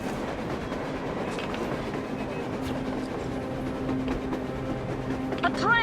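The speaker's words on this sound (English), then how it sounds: "A train! A damn train on the surface!" Surface train in the post-apocalyptic Moscow of Metro Exodus, a steady rumbling clatter of rail cars with a squeal of wheels near the end, heard under faint voices.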